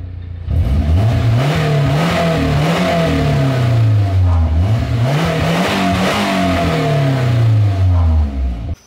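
A Nissan S14 fitted with blast pipes revs repeatedly, each blip rising and falling in a loud, raspy wave close by, with no talking.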